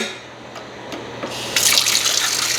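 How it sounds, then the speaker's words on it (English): Tap water runs and splashes into a stainless steel bowl being rinsed out, starting soft and growing to a steady, close, loud gush partway through. "I'm going to rinse this out."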